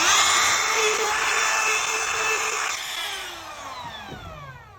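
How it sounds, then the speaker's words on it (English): A router fitted with a flush-trim bearing bit cuts a hinge mortise following a clamped pattern on a door frame, a loud steady high whine from the start that drops in pitch and fades as the motor spins down. "So now all we gotta do is route it."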